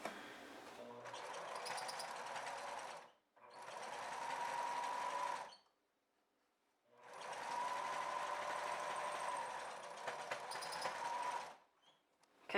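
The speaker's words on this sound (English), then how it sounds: "we're just going to sew this shut right here" A sewing machine stitches a fabric face mask shut, running in two long steady bursts with a short stop between them, then halting with a brief pause and a final short run.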